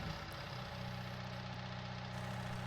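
A tractor engine idles steadily in Farming Simulator 19, a continuous low mechanical hum holding an even level throughout with no voices over it.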